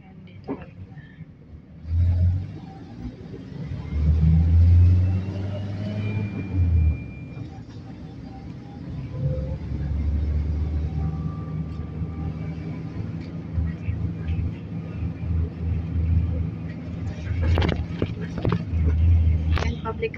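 Busy street traffic with minibuses and cars passing, a steady low engine rumble with heavier vehicles surging close by near the start and again toward the end, under occasional talk.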